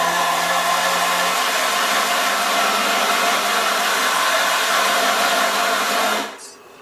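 A large homemade sanding disk grinds against a piece of 1.5 by 2 inch ash wood, a loud continuous hissing rasp that holds steady for about six seconds before cutting off abruptly.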